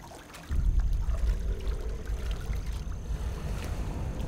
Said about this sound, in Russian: Бочка справа что-то пускает в воду.